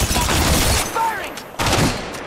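Rapid automatic gunfire from the mobile battle royale game Apex Legends Mobile rattles loud and close in a sustained burst, breaks off briefly, then resumes with another burst.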